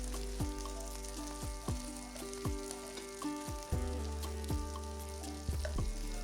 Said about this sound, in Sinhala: අඩු ගින්දරේ මේ විදිහට එහාට මෙහාට කර කර chicken ටික විනාඩි කිහිපයක් හොඳට බැද ගන්න ඕනේ